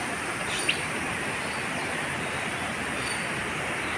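Birds call in an aviary in Hong Kong Park: a few faint chirps over a steady, hissing background of ambient noise, distant and soft, with no talking.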